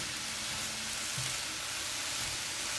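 Vegetables frying in turkey drippings in a pan give a steady, even sizzle with a soft crackle, close and moderately loud, with no talking.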